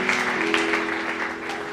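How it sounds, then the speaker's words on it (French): A church congregation claps loudly and continuously during an online worship service, a steady burst of applause over a faint electrical hum. "Est-ce qu'on peut acclamer très fort?"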